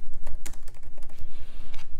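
Rapid typing on a computer keyboard while entering design text, a close, loud, continuous patter of key clicks with uneven rhythm and a few heavier strokes, no speech.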